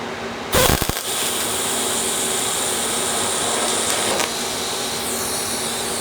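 A budget TIG welder striking an arc on metal: a sharp crackling burst at the start, then a steady close buzzing hiss that holds for several seconds before easing off.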